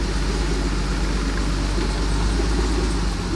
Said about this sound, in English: I'm going to go ahead and just move it a couple of feet forward and back